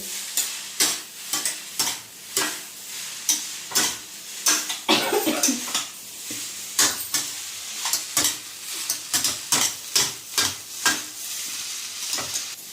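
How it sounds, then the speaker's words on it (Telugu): Veg noodles with chilli sauce are tossed and stirred in a sizzling pan, producing steady, rhythmic scraping strokes about once per second over a continuous frying hiss, close and fairly loud. "చిల్లీ సాస్ వేసుకుందాం. మంచిగా కలిపేసి మంచిగా ఫ్లేవర్స్ అన్నీ యాడ్ మంచి ఈవెన్గా కలుపుకుందాం."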